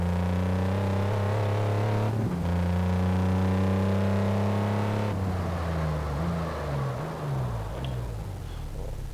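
A sports car in the racing game Test Drive Unlimited 2, driven in Ibiza, hums with a steady synthetic engine tone that rises in pitch, shifts, then climbs through stepped gear changes as it accelerates.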